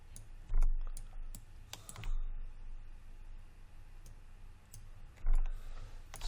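Scattered clicks of a computer keyboard being typed on, with a few louder keystrokes standing out against a quiet background hum.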